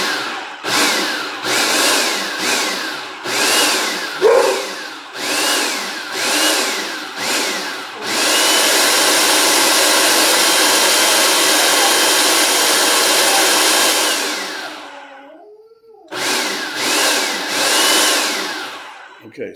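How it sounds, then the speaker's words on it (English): A blender pulses cauliflower toward a creamy mash: loud motor whirring in repeated short bursts, then a long continuous run before stopping, with a few more pulses after. "You want to blend this up till it's all nice and creamy like you did mashed potatoes."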